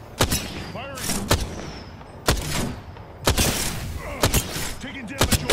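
Gunfire in Apex Legends playing as Gibraltar, a series of loud separate shots and bursts with sharp cracks and booming hits, spaced irregularly across the clip, with in-game voice lines between them.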